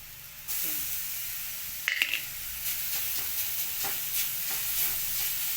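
Chopped vegetables go into a hot pan while making North Karnataka vegetable upma, a steady sizzle and hiss with a few clattering stirs and scrapes, fairly quiet throughout.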